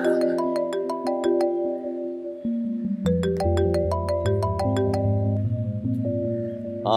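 A mobile phone rings with an incoming call, playing a loud melodic ringtone of sustained tonal notes with a rhythmic pulsing beat that runs continuously for several seconds, with no talk over it.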